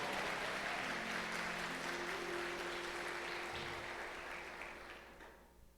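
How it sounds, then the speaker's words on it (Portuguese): A church congregation applauds in a steady, dense wash of clapping that holds for several seconds, then thins and fades out near the end. "Se você crê nisso, dá um glória a Deus e aplauda a Ele."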